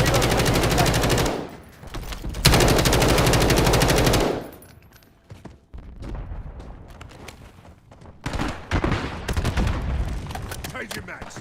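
Sustained automatic gunfire in a Call of Duty: Warzone battle royale match, a long loud burst followed by quieter scattered shots and a renewed volley, with voices briefly under the action.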